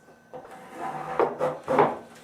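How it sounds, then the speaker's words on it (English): A wooden loft bed front rail is set onto carriage bolts, giving a few close dull knocks and scraping rubs of wood against metal, the clunks growing firmer toward the end. "take the front rail and place it on the carriage bolts"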